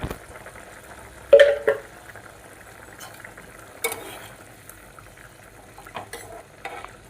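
A spoon stirs curry with coriander powder in a pot, giving a few sharp scrapes and clanks against the metal between softer stirring and a faint simmer, with no voices.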